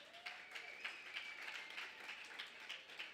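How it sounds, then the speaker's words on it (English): Applause from an audience at an Africa Month celebration, a steady wash of clapping without clear pauses that stays fairly faint throughout. "Please give them a round of applause"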